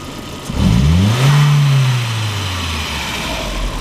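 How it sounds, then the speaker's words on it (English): A 1999 VW Passat 1.8T engine with a faulty mass airflow sensor and rough idle has its throttle snapped. The revs climb loudly, hold, then fall slowly back toward idle. No one speaks. "Snap the throttle a few times."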